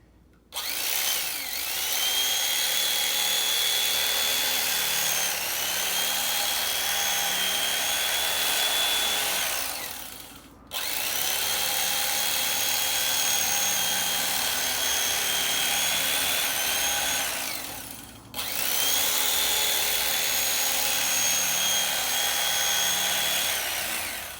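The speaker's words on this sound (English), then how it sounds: "So if you have an electric knife, or if a neighbor or friend of yours has one, use it." An electric knife saws through face shield material in three long buzzing passes, each a steady high whine lasting several seconds, separated by brief stops and restarts, close and alone.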